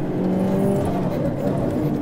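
A 300-horsepower Subaru BRZ race car with upgraded brakes revs its engine on the TC1000 track, giving a steady, loud, throbbing engine drone heard from inside the car.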